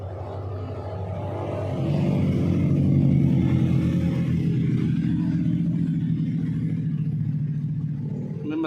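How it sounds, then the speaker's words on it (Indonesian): A Daihatsu Sigra engine runs steadily at idle with a low, continuous rumble that swells slightly after the first couple of seconds, heard up close and alone, with a faint rattle from its slightly noisy cooling fan. "Ini mesin masih hidup ya,"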